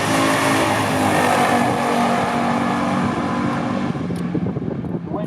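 A 1969 Chevrolet Nova makes a stock drag run down the strip at about 112 mph, its engine a loud, sustained, roaring blast that eases slightly in the final moments.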